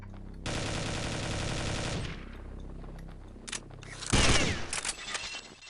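Rapid automatic gunfire in Counter-Strike: Condition Zero rattles out in a sustained burst of about a second and a half, followed by a short gap with scattered shots and then a second loud, sharp volley.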